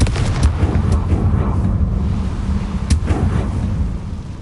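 The Confringo explosion spell in Hogwarts Legacy goes off as a loud, rumbling blast with sharp bursts around its start and again near the three-second mark, heavy low-end booms rolling throughout.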